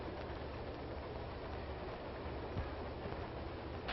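A 1930s passenger train rolling on rails gives a steady, dense rumble and rattle that stays constant throughout, with a faint click partway through and no voices.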